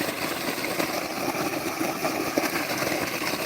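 An electric motor runs on a farm, giving a steady, unbroken mechanical hum with an even texture throughout and no voices.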